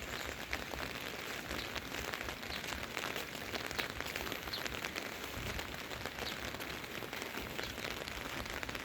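Rain that has continued for several days falls steadily, a broad even hiss of drops that stays constant throughout with no voices.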